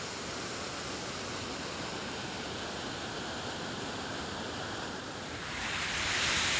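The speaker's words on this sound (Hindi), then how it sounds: "इधर से पूरा पानी आ रहा है ये, और ये सारे पानी इधर से निकल के ये इधर से उधर बाहर जाता है" A loud, continuous rush of water pours steadily out of a dam beneath a bridge, a dense roaring flow without pause that swells slightly louder near the end.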